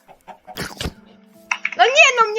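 A chicken in a survival video game gives a few short, close clucks, mixed in with people talking.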